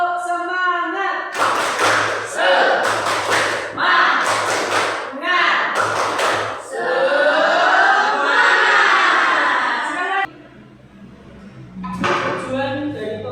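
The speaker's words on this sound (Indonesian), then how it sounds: "Tepuk semangat." A classroom of students performs a rhythmic spirit clap in unison, several short loud bursts of synchronized claps and chanting voices, followed by a longer stretch of mixed crowd noise and voices.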